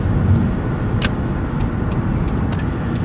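Inside a 2006 Hyundai Elantra on a test drive, a steady low road and engine rumble fills the cabin, with a few faint light clicks and rattles on top.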